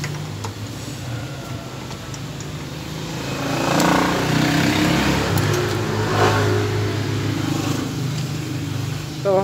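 Honda TMX155 motorcycle engine running steadily with excessive mechanical noise, a continuous close drone that swells louder partway through and stays rough and loud to the end.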